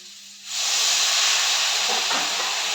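Water poured into a hot pan of drumsticks seasoned with turmeric and salt sets off a sudden loud, steady hiss of steam and sizzling that holds on close by.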